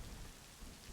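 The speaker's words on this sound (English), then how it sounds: "A little thunderstorm rain going." Thunderstorm rain ambience plays as a steady, faint hiss of falling rain with a low rumble underneath.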